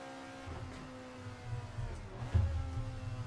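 An Alfa Romeo 33 Stradale in Assetto Corsa drops a gear with a heel-toe downshift: a steady engine drone, then a sharp blip of revs near the end that stays loud, with no voices.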